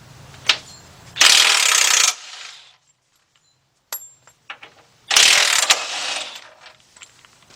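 A ratchet with a 21mm deep socket on a 1/2 inch drive removing bolts from the lower control arm of a 2005 Chevy Trailblazer, two loud bursts of rapid clicking separated by quiet clinks and handling.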